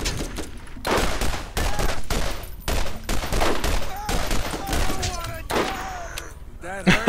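Pistol fire in the video game Borderlands, a steady stream of loud rapid shots with short pauses between bursts, mixed with other game sounds, while a voice talks over it.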